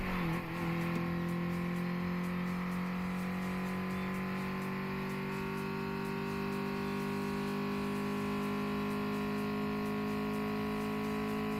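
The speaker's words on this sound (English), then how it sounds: "Let's do another dyno run, just have a look." A car engine in the Redline Reverie racing game revs hard during a dyno run, a loud sustained harmonic drone that climbs steadily in pitch for about eleven seconds with no voices.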